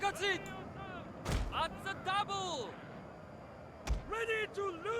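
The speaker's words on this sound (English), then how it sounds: "These spear levy are still getting smashed by the cannons." Cannon fire in Total War: Shogun 2, Fall of the Samurai, with two sharp booming blasts several seconds apart over battle noise and voiced unit callouts, while someone talks throughout.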